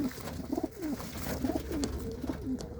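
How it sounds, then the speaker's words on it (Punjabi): Pigeons of a breed kept for sale coo softly in repeated short rolling phrases, several calls close together over a quiet background. "ਹਰ ਤਰ੍ਹਾਂ ਦੇ ਕਬੂਤਰ ਨੇ"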